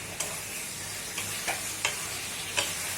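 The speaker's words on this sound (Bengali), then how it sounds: "এবার সবকিছুকে এর সঙ্গে দিয়ে কষিয়ে নেব।" Rice with the other ingredients stirred and fried over raised heat in a pan, a steady quiet sizzle broken by several sharp scraping clicks of a spatula against the pan.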